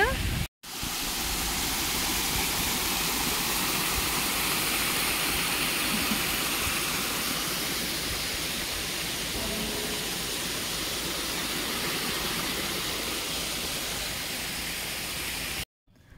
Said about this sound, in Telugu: నేను ఒక్కసారి చూపిస్తాను మీకు, బాగుంది వాటర్ ఫాల్